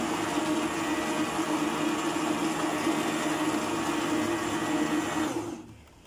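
A SEKAI MX 686 B stand mixer motor, running empty at speed one, whirs steadily at a constant speed, close and loud, then winds down and stops near the end.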